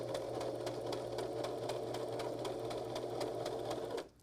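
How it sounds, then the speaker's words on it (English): Stitching a small fabric knot bag, a sewing machine runs close up with a fast, even rhythmic clatter over a low motor hum for about four seconds, then cuts off abruptly, with no one talking. "then we're gonna back stitch to the edge"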